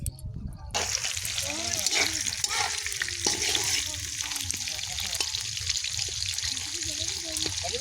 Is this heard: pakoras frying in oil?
yes